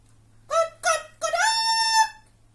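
Chickens in a straw-lined henhouse in a children's story make three close, loud calls with no other sound. The first two are short and the last is long and drawn out.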